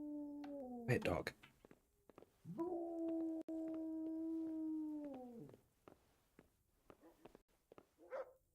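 Dog whimpers and whines in Kingdom Come: Deliverance, two drawn-out tonal cries with a shorter yelp at the start and a brief whine near the end, mid-distance and fairly faint, no talking over it.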